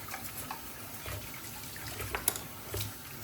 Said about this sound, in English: it's actually pretty easy to just rinse it and it's good to go